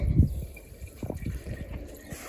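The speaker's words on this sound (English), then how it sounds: "which is already pumping the water, and the water comes out back there" A small pump in a hydroponics growing kit circulates water, producing soft, close burbling and trickling with uneven little gurgles and splashes.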